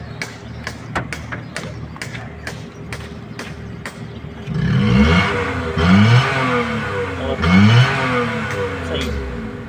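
A 2017 Daihatsu Mira fitted with a hydrogen kit, a well-used car, idles with some clatter and then gets three loud, close throttle blips, each rising and falling in pitch.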